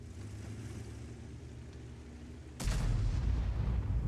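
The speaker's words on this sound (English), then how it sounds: "The SU-14-2 firing those rounds." SU-14-2 self-propelled artillery fires in World of Tanks. After a steady low rumble, a single sudden heavy boom breaks in and leaves a loud, sustained roar behind it.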